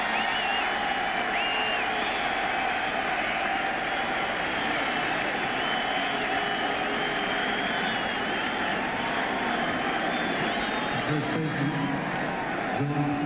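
Mets fans cheering at a night baseball game, a steady broad roar of crowd noise sustained across the whole stretch at moderate level, with no distinct voices standing out.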